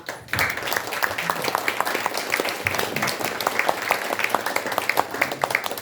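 An audience applauds at a Korean ceremony, with steady, dense clapping from a sizeable crowd that continues throughout, the hands close and fairly loud.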